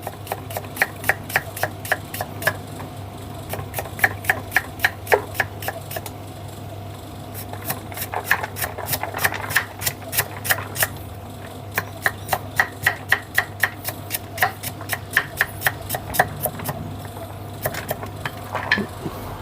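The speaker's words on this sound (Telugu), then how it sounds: "ఇప్పుడు ఈ ఉల్లిపాయని సన్నగా కట్ చేసుకున్నామండి" Knife chopping an onion finely on a cutting board in a kitchen, a steady run of close, crisp, rapid taps with brief pauses between bursts over a low constant hum.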